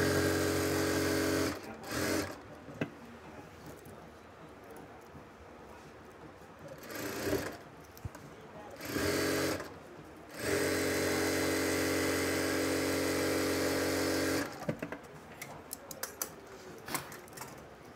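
A sewing machine runs a half-inch side seam on a skirt-style palazzo, a close, rapid mechanical whir in several bursts, including a long steady run, broken by short stops and quiet fabric handling.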